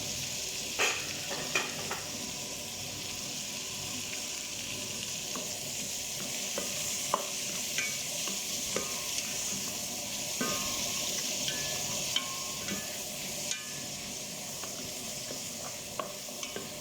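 Food being stirred in a hot frying pan: a steady, close sizzle with scraping and clinking strokes of the spoon at irregular intervals, with no voices.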